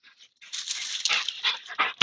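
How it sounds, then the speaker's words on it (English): Rambunctious dogs whimper and whine close by in short, high, breathy bursts, with a couple of sharper yelps near the end. "The dogs are still rambunctious, even though I took them for a walk."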